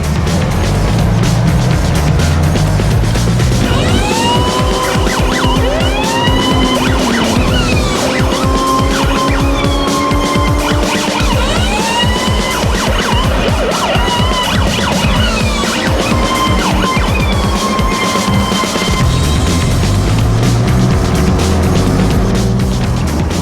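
Concept cars in a PS2 driving game race past with loud, continuous engine roar, rising and falling revs, squealing tires and wailing siren-like tones, dense and close throughout, with no voices.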